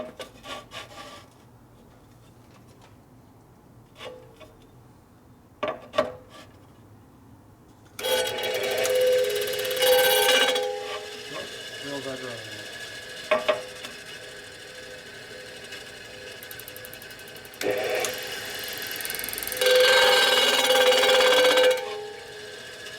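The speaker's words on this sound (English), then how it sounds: "So I was grinding up here on my block." A grinder works the engine block of a 1965 Harley-Davidson Panhead 74ci FLH in a machine shop. After a few quiet taps, loud abrasive grinding runs in long passes, stopping briefly and starting again, close by with no talk.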